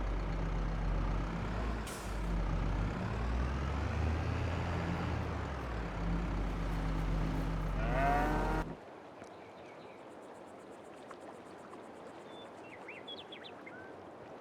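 A tractor engine in the farming video game Ballyspring rumbles loud and steady for about nine seconds, with a hissing release near the end, then cuts away to quiet ambience.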